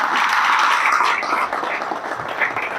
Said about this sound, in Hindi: अप्रिशिएट बनता है, एक बार तालियां बजाते हैं